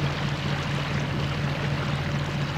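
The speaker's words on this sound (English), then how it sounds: "Hear the bow chuckling through the water." Calm water gurgles and rushes steadily past the bow of a sailboat motoring into Longhope in Orkney on a windless day. The wash sounds close and continuous over a low engine drone, with no voices.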